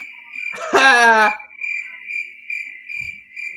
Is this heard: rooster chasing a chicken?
no